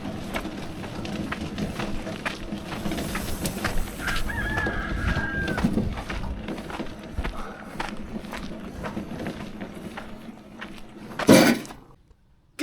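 Chickens cluck and a rooster crows in a backyard coop on a smallholding in central Portugal, with footsteps moving nearby; steady close poultry chatter runs throughout, ending in a sharp loud clatter near the end.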